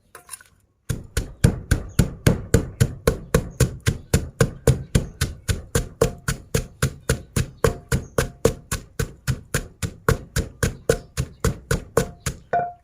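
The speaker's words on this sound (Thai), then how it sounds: "ตำบุกตำบาบเลยเจ้าเนาะตำมาแล้ว" Ingredients for a homemade pickled bamboo shoot dish are pounded in a mortar, a loud, rapid and very regular thudding of about four strikes per second that continues without pause after a short quiet start.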